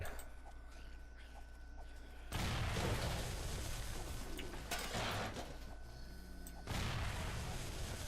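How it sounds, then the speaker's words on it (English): Booming blasts go off in the game 7 Days to Die, two strong bursts a few seconds apart over a quiet, hissing background. "the zombies are interested in the explosion sounds and they blow up more when they run to them"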